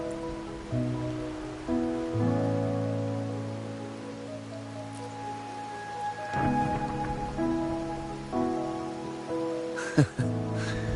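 Rain falling in the video game Wuthering Waves, a soft steady patter under sustained musical tones, with a brief sharper burst near the end.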